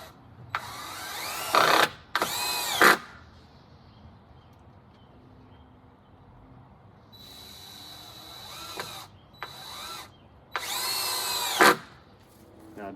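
A cordless power drill drives two 3-inch number 8 screws through a wooden fence board. It makes loud whining bursts of varying length, with quiet pauses and faint handling noises between them.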